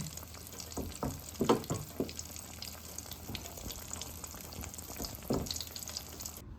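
Chicken fried steak frying in oil in a pan, a soft, steady sizzle and crackle with a few louder pops and spatters, heard up close.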